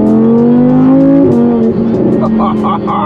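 Lamborghini Urus SUV with a Fast Speed exhaust system revving hard, a loud close engine note climbing steadily then dropping and settling into a steady droning exhaust tone.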